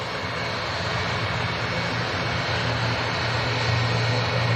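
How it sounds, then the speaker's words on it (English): A TUI jet airliner's engine spools up at the airport, a broad, loud roar with a low rumble that builds slightly toward the end, heard from a nearby vantage point. "Engine start on this TUI process here."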